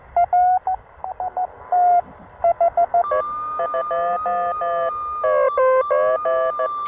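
Morse code radio tones from a German WW2 Torn.Fu.b1 radio in short on-off bursts, rapid and steady, with a second overlapping tone joining partway through against a faint hiss.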